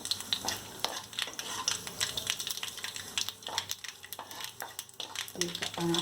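Mustard seeds, chana dal and curry leaves spluttering and crackling in hot oil for Rayalaseema uggani, with bursts of pops over a steady sizzle and a spoon stirring, close and fairly loud; no talking.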